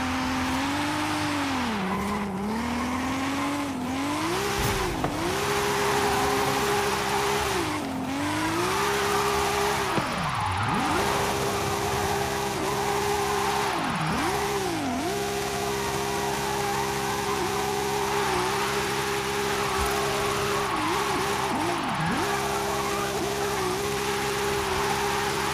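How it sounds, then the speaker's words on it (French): Car drifting back and forth through a drift zone in Forza Horizon 5, a steady engine drone with repeated swooping pitch dips as the revs rise and fall, and tire squeal throughout, continuous and close. "Vous vous mettez ici et vous faites des allers-retours dans la zone de drift pour faire vos 6 étoiles."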